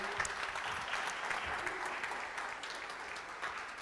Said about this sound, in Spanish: quiero darles un aplauso de bienvenida a Angie